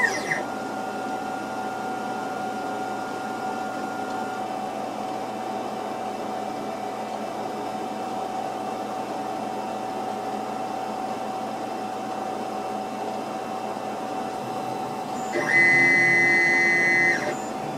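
Steady mechanical hum of a used Ultimaker 2 clone 3D printer running, with faint stepper whine and fan noise throughout, then a louder higher-pitched motor buzz near the end.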